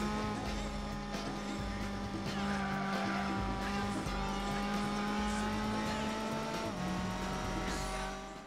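Race cars in the video game Gran Turismo 4, a sustained engine drone with shifting pitch and tire squeal, continuous and fairly faint, with no speech.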